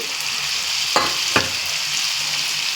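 Washed coriander leaves sauté in hot oil in a pan, giving a steady close sizzle with two sharp bursts where the leaves are stirred or tossed.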